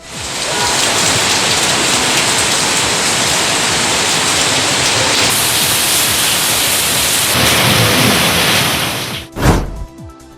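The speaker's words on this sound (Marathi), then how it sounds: "सोलापूरकरांनी बऱ्याच दिवसांनंतर गारांचा पाऊस पाहिला." In Solapur a hailstorm brings heavy rain that pours down as a loud, dense, continuous roar, and a low rumble swells near the end.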